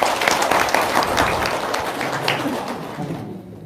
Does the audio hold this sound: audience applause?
yes